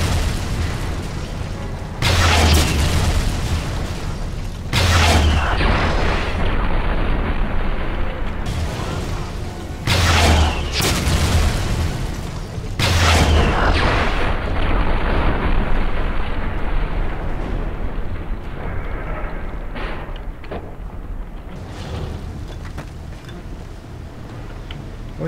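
Loud, booming blasts and sustained rumbling gunfire from the video game Wolfenstein, with several heavy explosions repeating every few seconds before fading into lingering noise.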